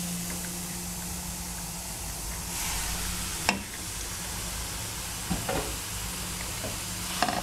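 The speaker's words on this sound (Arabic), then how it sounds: "غادي نزيد الكفتة" Minced kefta meat frying in a pan with softened onion, a steady close sizzle with occasional scraping stirs and clinks of the utensil against the pan.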